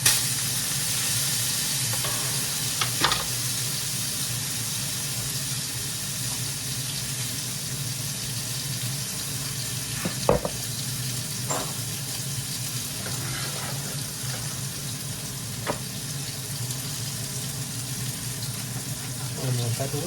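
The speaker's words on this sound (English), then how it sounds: "Sizzle." Home-grown oyster mushrooms sizzle steadily in a hot pan, a constant broad frying hiss with a few soft clicks and pops from stirring, close and even throughout.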